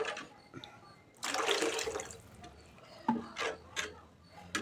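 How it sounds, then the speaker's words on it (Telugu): Water splashes into a pot of tamarind pulp for a fish curry, a short gushing pour followed by a few lighter splashes and clinks, with no speech. "చూసుకొని వాటర్ పోసుకుందాం."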